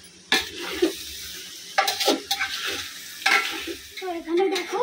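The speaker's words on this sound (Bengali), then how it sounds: "এখন চালটাকে মশলার মধ্যে দিয়ে কষাচ্ছি" Rice stirred into a pot of cumin, cinnamon, cardamom and bay leaf tempering, sizzling with repeated sharp scraping strokes of a spoon against the pot, close and alone.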